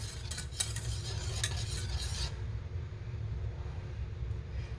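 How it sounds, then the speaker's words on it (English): Homemade yellow mustard paste simmering on low heat in a pot, with a few close utensil scrapes over a low steady bubbling hum; the stirring stops partway and the gentle simmer continues alone. "I'm just going to be keeping an eye on it till it is a nice thick paste, and stirring it once in a while"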